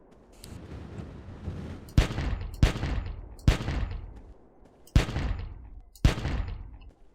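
Gunfire in the video game Carnivores 2: five loud, sharp pistol shots spaced irregularly over several seconds, each with a fading tail, over a steady low game ambience.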